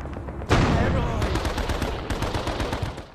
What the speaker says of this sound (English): I'm gonna try and use some frag grenades instead, since they're all grouped quite close together.